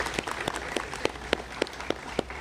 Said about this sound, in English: And yeah, you can clap for that, please.